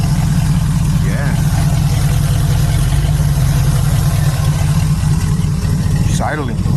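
Old Pontiac 421 V8 engine with blow-by idling, a steady, loud, low rumbling drone throughout with a faint higher whine over it.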